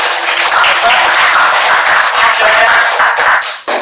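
A classroom of students applauds a student group with brisk, close, steady clapping that continues for several seconds and cuts off abruptly at the end.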